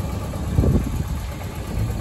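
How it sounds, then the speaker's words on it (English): Engine of a 1971 Lotus Elan ticks over at a steady idle, a low, moderately quiet mechanical rumble with a slight uneven pulse and no voices. "Engine turns over without an issue,"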